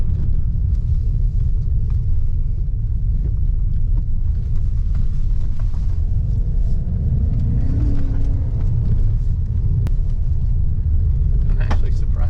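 A 2021 Ford Bronco driving on a Rebelle Rally off-road trail, heard from inside as a steady, loud low rumble of engine and road noise throughout, with occasional faint knocks.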